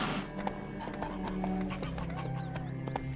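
Roach the horse trots in The Witcher 3, with a steady clip-clop of hooves and a brief neigh, close and clear over a faint ambient bed.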